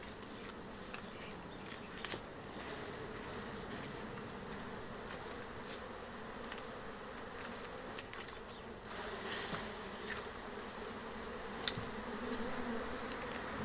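Honey bees drone steadily around a beekeeping hive with full honey supers, a dense, continuous buzz close by with a few sharper passes of single bees and no talk.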